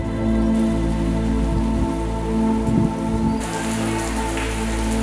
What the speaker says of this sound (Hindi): वर्षा जल यूं ही व्यर्थ बह जाता है